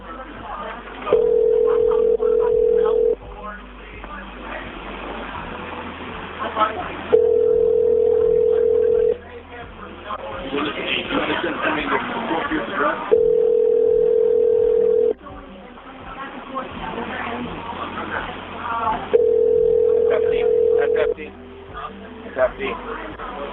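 A phone line rings repeatedly, four long tones spaced evenly with pauses between, heard through a receiver while faint voices talk in the gaps.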